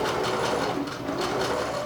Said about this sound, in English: I'm going to use about 1/4 of an inch seam allowance to stitch these together.